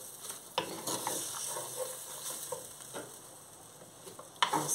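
Quartered spring onion sizzles steadily in a hot pan for shrimp chop suey, a soft continuous frying hiss broken by a few sharp clinks and stirring taps, close and moderately quiet with no speech.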